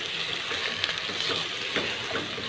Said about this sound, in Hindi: अब इसको करते हैं मिक्स और इसे अच्छे तरीके से सौते कर लेते हैं।